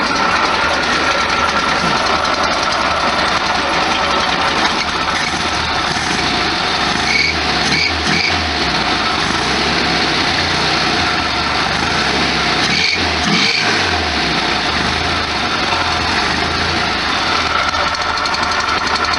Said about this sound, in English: Ah, the sound of a high MPG motor.